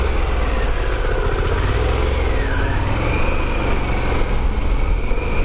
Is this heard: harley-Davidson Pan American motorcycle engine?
yes